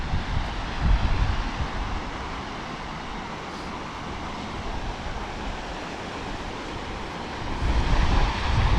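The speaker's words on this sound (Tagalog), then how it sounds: "Lakas ng tubig oh." Strong rushing water flows near the Souris Swing Bridge, a steady loud broadband roar mixed with gusty wind buffeting the microphone, swelling slightly at the start and end.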